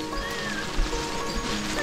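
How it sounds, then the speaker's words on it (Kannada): Rain falling steadily during a monsoon trek to Netravathi Peak, a dense, even patter that fills the whole moment without a break. "ಮಳೆ ಬರ್ತಾನೇ ಇದೆ"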